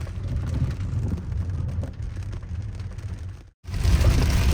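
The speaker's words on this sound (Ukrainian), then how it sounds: "Це жесть, який дощ." Heavy rain roars steadily and loudly, with a brief dropout near the end before the downpour resumes just as strong.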